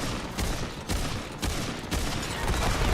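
Rifle gunfire in the video game Remnant 2: a steady string of heavy, booming shots, roughly one every half second, loud and close over a dense rumbling background.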